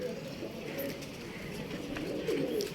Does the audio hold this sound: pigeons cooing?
yes